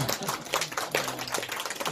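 A church congregation claps together in a steady burst of applause, dense overlapping hand claps filling the whole stretch at moderate loudness.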